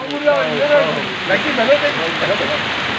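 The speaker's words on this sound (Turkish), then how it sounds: "Abi dolu yağıyor." Hail and heavy rain pour steadily in a village, a dense hiss and patter, while people talk in the foreground throughout.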